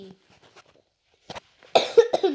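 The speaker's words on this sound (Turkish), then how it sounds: "Bu arada öksürdüğüm için özür dilerim." A man coughs several times in quick, loud bursts close to the microphone, following quiet faint sounds, during a Turkish tutorial on installing a Minecraft mod.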